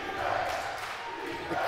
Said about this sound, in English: crowd is buzzing here in YU